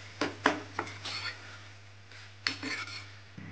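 A lid set down on a pan of banana flower bhaji, a few close metallic clanks and scrapes against the pan over a steady low hum, with no talk.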